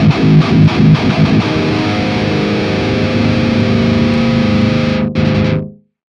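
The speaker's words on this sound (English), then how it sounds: "You want the amp distortion." Heavily amp-distorted electric guitar through a Quad Cortex, loud sustained chords with some chugged rhythm at the start, ringing out before being cut off sharply by a gate.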